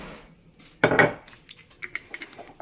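Cooking oil poured into a metal frying pan before making lamb burgers, a short burst of clinking and sizzling contact near the start followed by a few faint light taps in a quiet kitchen.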